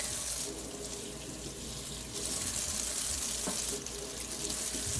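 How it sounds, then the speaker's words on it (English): Cold tap water running over the bottom tank of a moka pot, a steady close splash from the faucet that swells louder in two bursts. "I'm taking this thing now underneath the cold water tap on the bottom tank."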